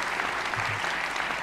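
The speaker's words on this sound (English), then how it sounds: "Why is your character clapping?" Steady crowd-style applause from a video game character clapping during a Deal or No Deal game session, continuous and fairly loud across the moment with no talk over it.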